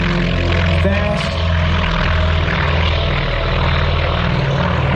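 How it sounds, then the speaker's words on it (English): A T-28 Trojan propeller warbird, a tricycle-gear trainer, rumbles past in an airshow parade with a steady, loud engine drone and harmonic propeller hum filling the air throughout. "the T-28 Trojans with their tricycle landing gear. It's a trainer"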